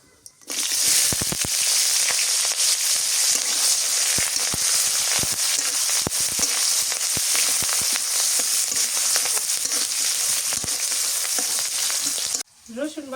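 Cumin, onion and green chili fry in hot oil for a mirka fish and cauliflower curry. A loud, steady sizzle with frequent stirring clatters runs throughout, then stops abruptly at the end.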